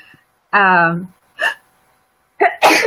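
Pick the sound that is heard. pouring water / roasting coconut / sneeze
sneeze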